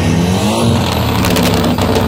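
A turbocharged Volkswagen Jetta revs hard at a car meet, a loud, continuous engine snarl with a rising whine, close by and alone.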